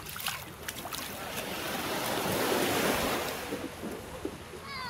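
Strong water current and crashing waves at an outdoor swimming spot make a steady, loud broadband wash with gusty wind noise, rising and falling without speech.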